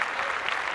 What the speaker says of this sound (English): I want to give one more round of applause for Matas